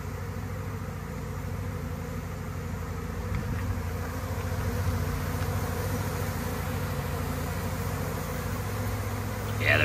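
A honeybee swarm makes a dense, continuous buzz that stays steady throughout, with a faint low hum underneath.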